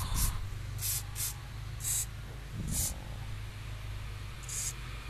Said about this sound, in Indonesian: Saya semprotkan dengan WD.